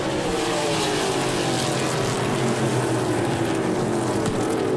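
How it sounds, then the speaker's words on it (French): Onboard a NASCAR Pinty's stock car during the 2022 Pro-Line 225, the engine drones loud and steady with a gradually shifting pitch, wind and road roar constant throughout. "On est à bord avec Larry Jackson, le vétéran dans la voiture Dooley's Trucking."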